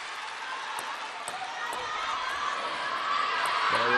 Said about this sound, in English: Huge roar from this crowd.